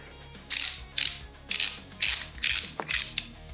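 Ratchet loosening bolts on a 351 Windsor V8 intake manifold, six loud, close bursts of rapid pawl clicking in a steady rhythm with short gaps between strokes.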